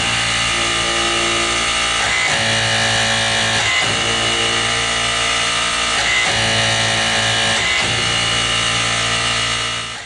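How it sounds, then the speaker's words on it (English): AutoTORQ hydraulic chain pipe wrench turning a pipe clockwise with the drive arm pushed forward, a loud steady mechanical whine and hum with short breaks every second or so as the stroke cycles. "We've got the pipe rotating clockwise. We're pushing forward on the drive arm."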